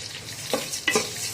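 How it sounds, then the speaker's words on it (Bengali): Coriander seeds frying in a pan hiss steadily, broken by two sharp scraping strokes as they are stirred, close and with no talking. "ধনেটা ভাজা হচ্ছে"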